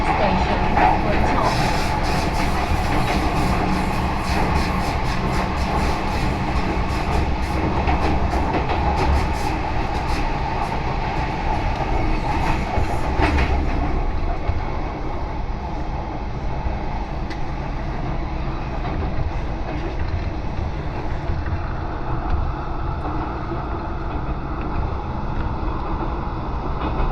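An MTR Kwun Tong line M-train in Hong Kong runs toward Tiu Keng Leng, a continuous loud rumble of wheels on rails with clattering and screeching in the first half, then settling into a steadier, smoother roar.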